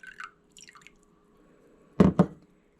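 Water poured into a glass jar of flour for a sourdough starter, heard as two short, close splashy pours near the end after a mostly quiet stretch with faint clinks.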